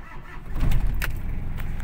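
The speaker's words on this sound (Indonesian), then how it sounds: "Kita nyalakan mesinnya." A car engine cranks and catches with a short rising burst, then settles into a low idle, heard close and alone.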